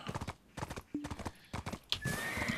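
Horse hooves clip-clop at a walk in the Black Desert Online game, a quick run of even hoof beats close by, with a short whinny near the end and a voice talking over part of it.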